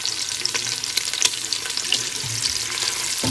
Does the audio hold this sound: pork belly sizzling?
yes